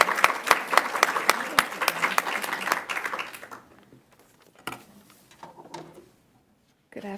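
A live audience applauds to welcome a speaker at a human rights talk, a dense burst of clapping that fades out midway, followed by scattered rustling and a few faint knocks.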